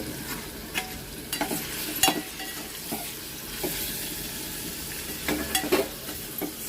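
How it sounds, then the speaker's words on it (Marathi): Squid curry masala stir-fried in a pan for a seafood dish, a steady sizzle with repeated scraping stirs of the spoon at close range, no talking. "तरी 1 मिनिटभर आपण परतून घेऊया."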